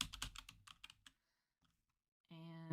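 Computer keyboard typing while entering code in a Power Apps HTML editor: a quick burst of clustered keystrokes, then near silence, ending with a steady tonal hum.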